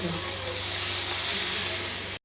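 A continuous, fairly loud hiss of jackfruit kofta curry bubbling in a pan on the stove, cutting off abruptly at the end.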